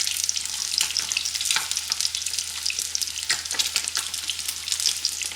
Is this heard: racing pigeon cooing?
no